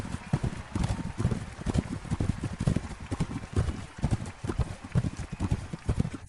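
Rapid, rhythmic hoofbeats of a donkey galloping in a race, a steady clip-clop pattern of repeated thuds, fairly close and even in pace.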